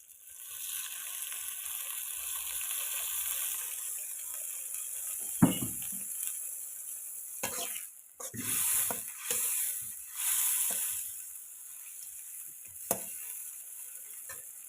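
Steady loud sizzling of masala with garlic and ginger frying in a pan after water is added, with occasional stirring scrapes and clinks of a spoon against the pot.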